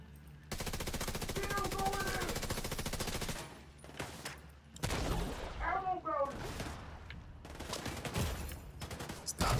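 Rapid automatic video game gunfire in a PvE shooter mission, a long unbroken burst followed by choppier volleys and impacts, loud and close.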